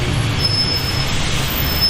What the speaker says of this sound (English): And here comes our train now, a Kingi Chariot-built LRV, the same ones they use on the Hudson-Bergen light rail.